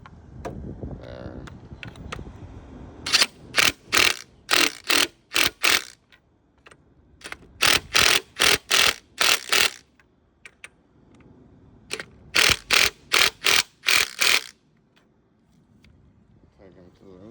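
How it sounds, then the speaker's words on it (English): A socket wrench ratchets on 18 mm motor mount bolts of a 2014 Ford Focus SE. Sharp clicking bursts come in three close groups of rapid strokes, with quieter handling noise between them. "So I have the socket for the 18 on."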